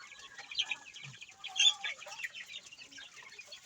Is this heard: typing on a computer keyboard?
no